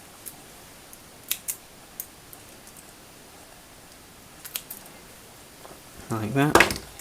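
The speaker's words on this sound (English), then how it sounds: "you want to cut yourself some thread" Scissors snip sewing thread in a few short, crisp clicks spread across the quiet stretch, followed by a brief louder burst of voice-like sound near the end.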